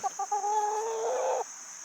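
A chicken gives a few short clucks, then a drawn-out, rising squawk close by, over a steady high-pitched background whine.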